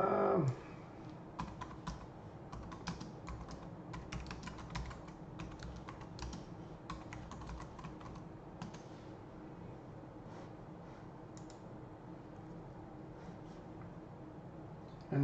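Keys clatter on a computer keyboard in quick, uneven bursts with short pauses between them. The typing is fairly faint and close, and no voice is heard over it.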